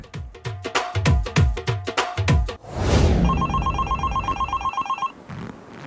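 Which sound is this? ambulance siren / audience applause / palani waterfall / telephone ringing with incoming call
telephone ringing with incoming call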